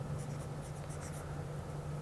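Pen scratching steadily on paper while a trigonometry problem about a pedal triangle is worked out; a faint, continuous writing sound with no talking.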